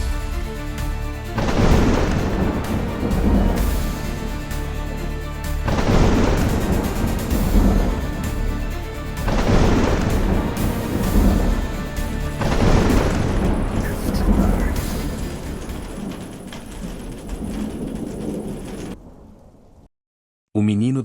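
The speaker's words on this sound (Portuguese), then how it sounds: "A noite cortou a vila com trovões" Thunder rolls through a night storm over a village in a series of deep, booming rumbles, each swelling and fading in slow waves about every four seconds before ending in sudden silence.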